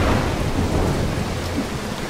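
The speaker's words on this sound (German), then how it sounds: "Blitz." Thunder rumbles low and steady together with rain in a stormy scene from the stealth video game Mark of the Ninja, loud and continuous for about two seconds with no voices.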